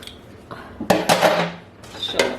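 Metal utensil stirring almond extract into a hot candy mixture in a pan, off the heat: several clinking scrapes and taps against the pan, in short bursts with brief pauses.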